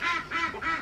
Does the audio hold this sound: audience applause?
no